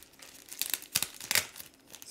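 Tape tears off a comic book shipping package in a few quick rips and crinkles, close and sharp, with short pauses between bursts and no talking.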